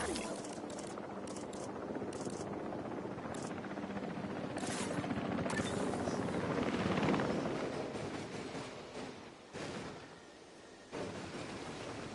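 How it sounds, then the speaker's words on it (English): Drone taking off and flying in the video game Jurassic World Evolution 3, a steady loud whirring rotor drone with engine-like rumble that swells midway and fades, with brief dips near the end, no talk over it. "Releasing the drone."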